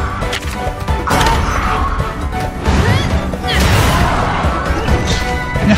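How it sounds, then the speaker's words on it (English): Hammer blows smash into a monster during a Monster Hunter Stories 2 battle, loud dense crashing impacts and whooshes filling the whole stretch with continuous game effects. "Keep on smashing and bashing,"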